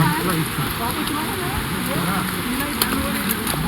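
Heavy rain falling steadily on a forest trek to Andharban near Pune, a loud continuous hiss and patter of drops with scattered sharper splashes throughout, with no voices.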